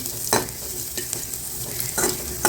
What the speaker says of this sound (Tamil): லைட்டாக ஒரு வதக்கு வதக்கினா போதும்